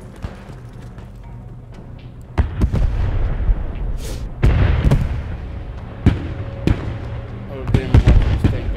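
Booming cannon fire and sharp explosions from a tank battle in a World War II shooter game, several heavy blasts at irregular intervals over a rumbling background, with players talking over them.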